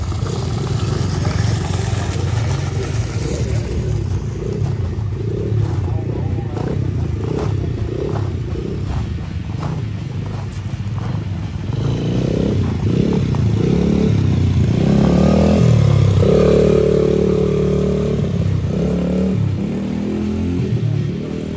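A 1973 VW Beetle engine idling nearby, a steady low rumbling clatter that swells briefly with revving toward the end, loud and continuous without talk.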